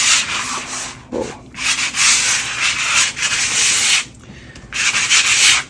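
Stiff bristle brush scrubbing a hard surface in rapid rough back-and-forth strokes, close and loud, broken by a few brief pauses.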